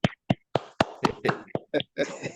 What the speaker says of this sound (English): Where's your round of applause?